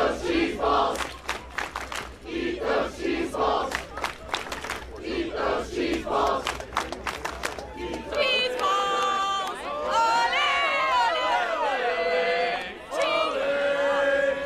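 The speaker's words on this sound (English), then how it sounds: "he really did draw a huge crowd here" Large crowd at an outdoor event, shouting, chattering and cheering in a dense, loud babble that swells into sustained yelling and chanting; voices talk nearby over it.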